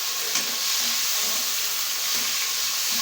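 Vegetables and tomatoes sauté in a hot pan for Filipino pakbet, giving a steady loud sizzle and hiss throughout with faint stirring, close up and without talk.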